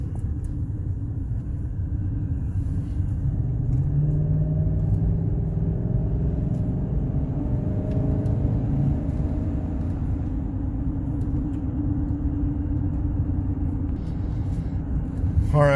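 A 2011 Chevy Silverado 2500HD with a 6.0 engine and 6L90-E transmission trouble drives onto a highway, its engine and road noise a steady low rumble that slowly rises in pitch as it accelerates, with faint background sounds.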